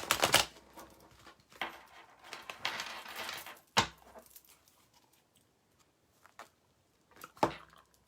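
A deck of cards being shuffled close up, with a dense riffling burst at the start, another longer riffle in the middle, and a few sharp isolated snaps and taps spaced through otherwise quiet moments.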